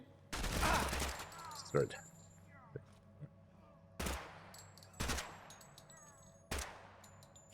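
Incendiary rounds firing in a video game come as several sharp, loud shots spaced a second or so apart, each followed by a short ringing tail. A voice speaks briefly between the shots.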